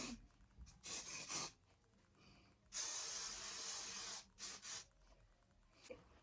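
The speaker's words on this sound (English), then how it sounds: "You can give it a little spritz of hairspray, which I am going to do." Hairspray sprayed onto short, roller-styled hair in several hissing aerosol bursts: two short spritzes, then one long steady spray, followed by a few brief puffs, close and fairly loud with quiet gaps between.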